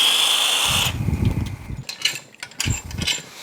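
A power tool spins bolts out of a Yamaha F225 outboard powerhead during a rebuild, giving a close whirring burst at the start followed by clanks, rattles and handling noises.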